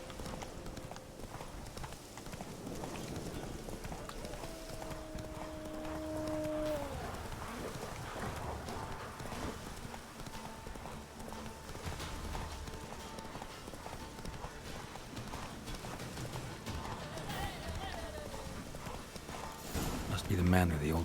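Hooves of the horse Roach galloping across open ground in The Witcher 3, a continuous rhythmic clip-clop under ambient game music, with a voice speaking.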